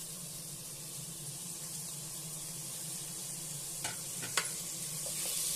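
Tomatoes frying in oil in a pan, a steady soft sizzle running the whole time with a few brief scraping clicks of stirring near the end, no voices.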